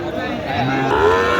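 A five-month-old Sahiwal bull calf at a cattle market lets out a single drawn-out moo close by, rising slightly in pitch over a second or so.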